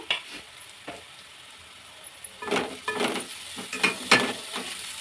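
Onions with turmeric fry in a pan for an onion saagu, with a soft background sizzle broken by repeated scraping stirs that grow busier and louder in the second half.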